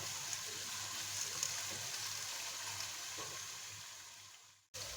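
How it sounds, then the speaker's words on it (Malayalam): Vegetables and capsicum stir-frying in ghee for restaurant-style chicken fried rice, a steady loud sizzle filling the whole clip before cutting off abruptly near the end and briefly resuming. "വെജിറ്റബിൾസ് എല്ലാം ഇട്ട് കൊടുത്ത് ഒന്ന് ഇളക്കിയതിന് ശേഷം"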